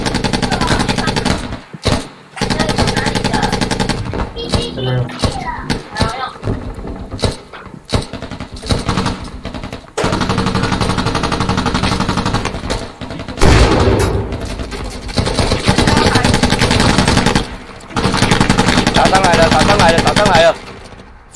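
Rapid bursts of enemy gunfire in a shooting video game crackle and rattle repeatedly, some in sustained automatic strings, loud and close, with players' voices talking over them.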